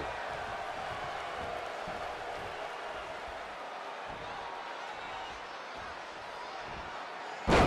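A capacity arena crowd in the WWE 2K20 wrestling game gives off a steady, broad roar that holds at an even level, with a sharp impact bursting in at the very end.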